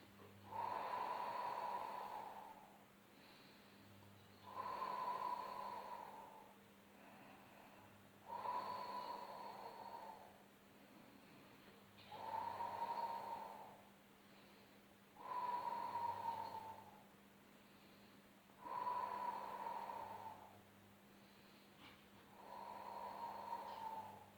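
Slow, deep breaths during a Pilates exercise, about seven long inhales and exhales in an even rhythm, each swelling then fading, close and clear with no talking.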